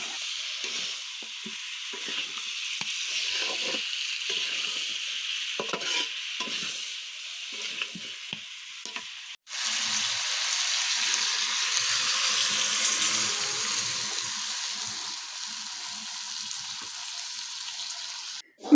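Chunks of raw pangas fish stir-frying bhuna-style with spices in a pan containing fried onion, cumin, cinnamon and cardamom; a steady sizzle with scraping stir strokes runs throughout, briefly cutting out midway before resuming louder.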